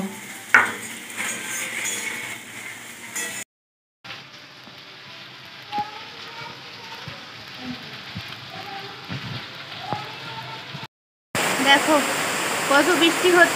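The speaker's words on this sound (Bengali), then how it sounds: "এই ঝমঝম করে একদম বৃষ্টি নেমে গেল প্রচণ্ড জোরে বৃষ্টি হচ্ছে" Heavy rain pours down steadily in a broad hiss with a few dripping and splashing accents, briefly cut by two short silent gaps and returning louder and closer at the end.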